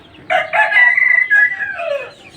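A native chicken rooster lets out one loud, close crow that rises, holds and trails off, with faint background noise around it.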